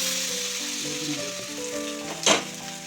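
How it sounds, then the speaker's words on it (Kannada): Fish frying in a pan gives a steady broadband sizzle throughout, with a brief louder burst of spattering near the end, while tonal background sounds run underneath. "ಮೀನು ಫ್ರೈ ಮಾಡ್ಕೊಂಡು"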